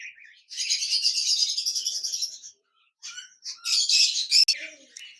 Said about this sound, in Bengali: রেড আই কোকাটেল পাখি রয়েছে, বিগ সাইজের